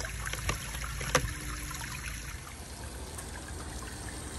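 Water steadily trickles and splashes into the basin of an old water fountain as it fills, a continuous close, fairly quiet wash with a few small splashes and no talk.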